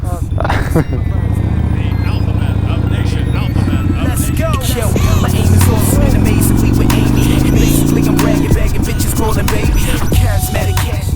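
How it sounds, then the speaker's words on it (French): A big Harley-Davidson V-twin motorcycle engine rumbles loudly and continuously close by, revving up and down with popping exhaust backfires, while a voice talks over it. "Ça fait du bordel, les retours de pot d'échappement."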